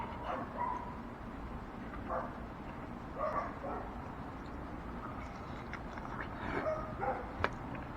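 A pet dog makes short barks and yips in front of a steady outdoor background hum on a hot day, with a few bursts spaced across the stretch at moderate distance.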